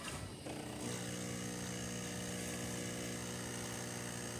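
A Jura Z6 coffee machine extracts freshly ground coffee for a cappuccino, producing a steady, droning pump hum with dense tonal buzzing that starts abruptly and holds continuously, fairly quiet.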